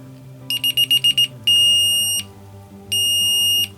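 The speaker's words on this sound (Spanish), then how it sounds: "cuando se activa la alarma es porque nos está indicando que una celda o ambas celdas ya están llegando a" A low-battery alarm on a battery charge indicator gives a quick run of six sharp beeps, then two long steady high-pitched tones separated by a pause, loud and close against a faint low hum.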